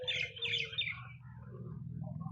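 A pigeon, a fine 'palla' bird with trimmed feathers, gives soft calls and chirps up close, alongside a low steady rumble that runs through the whole stretch.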